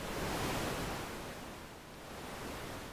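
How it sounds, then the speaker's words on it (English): Synthesized ocean waves programmed in Pure Data wash in a continuous broadband roar that swells and eases slowly, with no voices over it. "if you listen right now to the sound of the waves in the background, you'll hear PD."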